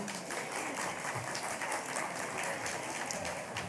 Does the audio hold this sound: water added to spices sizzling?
no